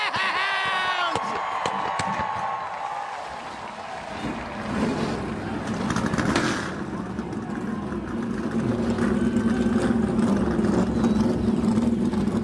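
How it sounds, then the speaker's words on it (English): Race car engines fire up and idle at Texas Motor Speedway in a series race, a rumbling mix of motors under crowd noise that swells into a loud, steady drone. "Cars fired up and roll off for 12 laps around Texas Motor Speedway."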